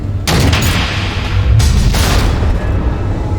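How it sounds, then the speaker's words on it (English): Heavy missile blasts in Batman: The Enemy Within, a dense rumbling barrage that holds loud for the whole stretch, with sharp fresh impacts near the start and again about midway. "The missiles."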